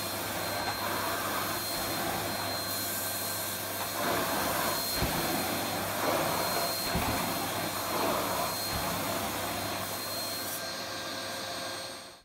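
An Asda ASV-17 vacuum cleaner runs on carpet with strong suction, giving a loud, steady roar with a high whine that holds throughout, shifting slightly as it is pushed back and forth.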